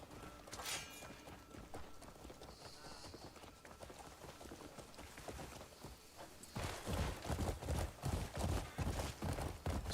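Horse hooves clip-clopping in a fantasy video game, a steady run of rhythmic hoofbeats that grows louder and more forceful near the end, heard alongside other game sounds and no talk.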